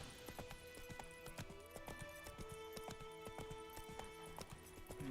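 Roach the horse gallops in The Witcher 3 game, rapid rhythmic hoofbeats drumming steadily and close throughout, with a faint tonal game score underneath.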